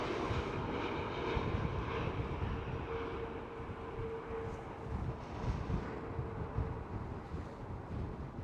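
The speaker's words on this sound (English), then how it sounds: "Right over here, EasyJet Airbus A320 Neo." An EasyJet Airbus A320neo airliner passes at Amsterdam Schiphol, a faint low rumbling roar with wind buffeting the microphone, swelling slightly and holding steady throughout.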